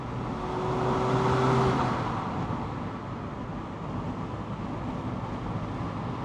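A Mazda MX-5 takes a corner with a steady engine drone that swells briefly in the first couple of seconds, heard from the driver's seat over road and wind noise, with no talking.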